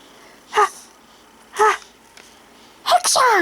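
A voice imitates sneezes up close: three sharp, separate bursts about a second apart, each a short explosive cry, with quiet gaps between.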